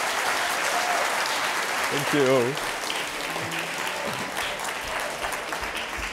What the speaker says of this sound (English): I want to give you an applause for this very young Albert Einstein